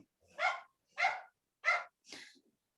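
Four evenly spaced, short dog barks come from close by at a steady rhythm against an otherwise quiet background.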